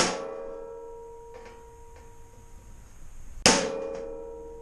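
Two sharp metallic clangs of a hammer punching metal, each ringing out and decaying, with a quiet pause between them.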